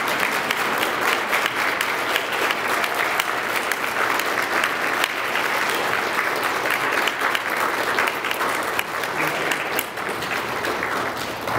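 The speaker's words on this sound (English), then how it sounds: "give Julie a round of applause" A crowd gives loud, sustained applause at a high school football team's year-end banquet. The dense clapping fills the room throughout and tapers only slightly near the end.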